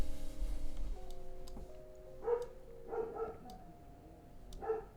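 Several dogs barking in the distance, a few scattered single barks and short bursts spaced through the stretch over a faint low background hum.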